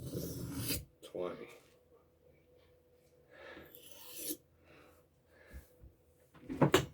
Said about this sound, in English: Now, this sharpening stone,